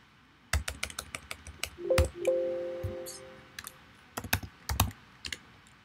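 Someone types a short command on a computer keyboard in quick bursts of clicking keystrokes, with a brief electronic chime from the computer partway through, close and otherwise quiet.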